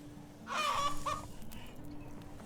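A rooster and hen in the medieval farming game Medieval Dynasty give a single burst of clucking, close and moderately loud, over a low steady background tone, then fade to quiet ambience with no speech.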